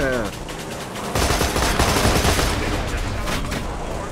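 Rapid gunfire from a chainsaw cannon in the Borderlands video game, a loud dense burst of shots that swells after the first second and keeps rattling to the end, with a voice speaking briefly at the start.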